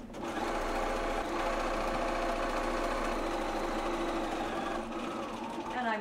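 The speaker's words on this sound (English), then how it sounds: "Now I'm sewing pieces 1 and 2 together, and I'm back stitching here," A sewing machine stitches pieces of an Around the World comforter together, its fast, even motor whir running steadily and loudly throughout, with speech heard over it.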